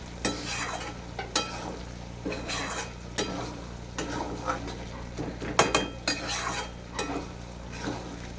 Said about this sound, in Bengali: কাঁচা পেঁয়াজ কুচি ওপর থেকে দিয়ে দেবো দিয়ে এভাবে আবার মেরে চলে নেবো